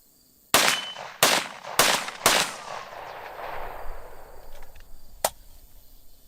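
Four sharp rifle shots crack out in quick succession, each about half a second apart, loud and close with ringing decay, followed after a pause by one fainter distant report.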